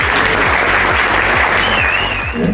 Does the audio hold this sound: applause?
yes